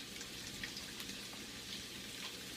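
Running water hisses steadily as vegetables are rinsed at a sink, with a soft, continuous spatter at low, even loudness.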